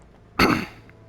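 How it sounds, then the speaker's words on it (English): A single short, rough throat clearing, close and fairly loud, rising abruptly and trailing off quickly against a quiet background. "Sorry, I'm always clearing my throat."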